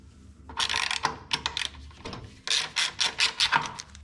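Wrench work on a 1953 Plymouth Cranbrook's brake line block, with a string of close, rapid ratcheting clicks in two bursts separated by a brief pause.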